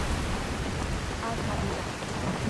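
Rain and thunder in the Skyrim video game, a dense, loud, continuous downpour hiss with a low rumbling undertone throughout, without talk.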